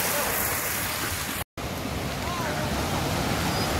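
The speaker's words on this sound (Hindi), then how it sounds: "इस नदी के बहने की आवाज सच में हमें बहुत ही ज्यादा सुकून दे रही थी।" A river in Gulmarg, Kashmir flows with a steady, dense rush of water, loud and close, broken by a brief cut near the start.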